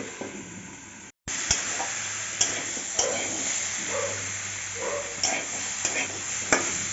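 Vegetables fry in a pan with a steady hissing sizzle after a brief cut-out, with occasional knocks and scrapes of stirring close by.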